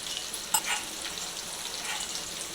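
Spice masala sizzling in hot oil in a pan while cooking an okra curry with yogurt, a steady close crackling fry with a few brighter spatters, no voices.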